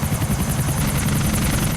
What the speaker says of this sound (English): listening closely for helicopter engines approaching